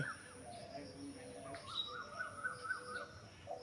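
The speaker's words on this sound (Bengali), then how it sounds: "পাখির ডাকের আওয়াজ পাচ্ছ না এই যে" Birds call intermittently at a distance, thin chirps and tonal notes over faint outdoor background, with a quieter cawing quality at times.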